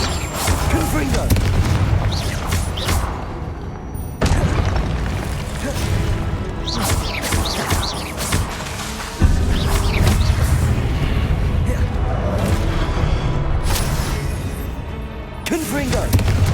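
Confringo blast spells in a Harry Potter game, several loud booming explosions at irregular intervals with crashing, crackling bursts over dense game noise and a voice.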